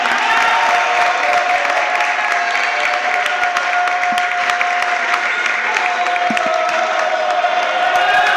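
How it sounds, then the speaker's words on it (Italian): Sustained applause and cheering fill a futsal venue as the winning Promo team celebrates its cup final victory, a dense, loud, even roar of clapping with scattered shouts and whistles throughout. "un grande applauso ancora per il promo"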